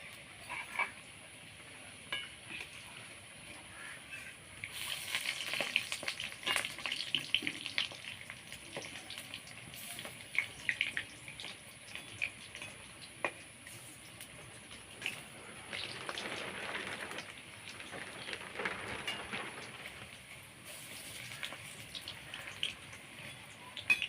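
Kule shak leaf fritters (bora) frying in oil, a soft, steady crackle and spatter with scattered pops, fairly faint and close, with busier bursts of sizzle partway through and no voices.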